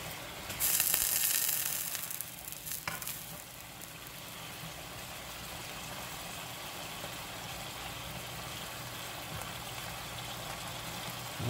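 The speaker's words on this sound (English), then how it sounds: "That's all it is, cooking ham." Ham fries in a pan, a steady low sizzle and hiss that starts with a brief louder burst and then settles into a constant background crackle.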